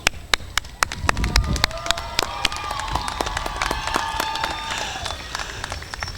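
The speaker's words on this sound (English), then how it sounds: "Please give a robust cheer and round of applause for the continued support." Graduates and guests at a 2023 community college commencement break into cheers and applause, opening with sharp scattered claps that swell into a sustained crowd roar with whistles and whoops across the hall.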